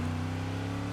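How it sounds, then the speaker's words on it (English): Steady, throaty car engine idling and rumbling in Need for Speed Heat, a deep continuous drone with strong low harmonics, close and alone with no voices. "Oh, listen to that engine."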